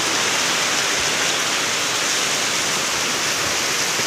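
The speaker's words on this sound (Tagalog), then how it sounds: "Siyempre, umuulan pa nga po mga katuwa." Steady, heavy rain hisses continuously at close range, a dense even wash of noise with no pauses or voices.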